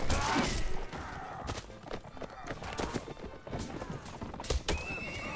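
A horse in the Mount & Blade Warband video game neighs loudly at the start, then hooves clip-clop and thud at a gallop amid busy battle noise, while a voice talks over it.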